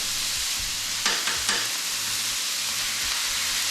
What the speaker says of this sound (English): we put a little oil down. We're gonna cook up these jalapenos.